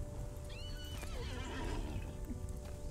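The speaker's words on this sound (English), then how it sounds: "I love my Shire horse" Shire horse from the game Lord of the Rings Online gives a single whinny that rises and falls, heard at moderate volume over a steady game ambience with soft hoof clip-clop.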